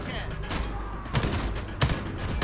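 Gunfire in Homefront: The Revolution, several sharp loud bursts of shots spaced irregularly over a couple of seconds, close, with a voice talking underneath.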